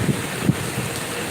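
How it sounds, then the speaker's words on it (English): Heavy rainstorm outdoors: a dense, steady rush of falling rain mixed with wind buffeting the microphone, loud and continuous, with a couple of low thumps. "It's getting harder. It's a rainstorm."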